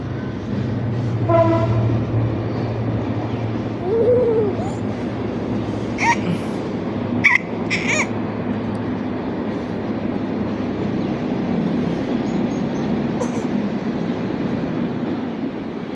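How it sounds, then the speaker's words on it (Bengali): A train rumbles steadily past farmland where wheat and maize lie drying in the sun, with a brief horn blast partway through over the continuous rolling noise. Faint voices sit in the background. "ট্রেন আসছে ট্রেন আসছে"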